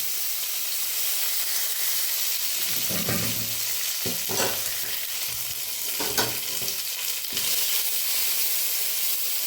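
Curry leaves and coriander fry in a pan with a steady, close hiss and sizzle. Several stirring scrapes and crackling spurts stand out over it, and no one speaks.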